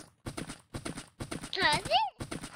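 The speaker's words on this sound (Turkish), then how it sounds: "Sürüyoruz atı Defne." Clip-clop of a horse being ridden in Minecraft, quick rhythmic groups of hoof clatter repeating in bursts, with a whinny rising and falling midway through.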